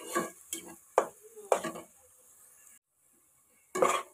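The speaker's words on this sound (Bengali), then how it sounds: "এগুলো আমি এভাবে লাড়াচাড়া করে করে বাদামি কালার করে ফেলবো পেঁয়াজগুলো" Onions frying in a pan and turned over and over until brown, several close scraping stirs with a light sizzle beneath, then a brief pause and one more stir, no voices.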